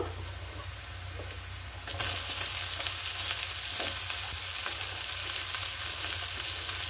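Leafy greens (saak) hit a hot pan and sizzle loudly, with a steady dense crackle of frying that jumps up sharply about two seconds in and holds close and continuous.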